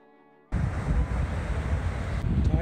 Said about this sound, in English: Tybee Island Beach.